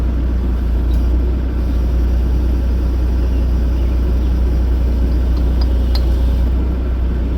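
Bobcat E42 compact excavator lifting a load while clearing an F350 truck bed, a loud, steady low engine rumble running throughout with a few faint metallic clinks.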